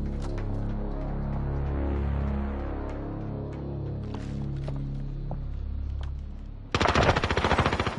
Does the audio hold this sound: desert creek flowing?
no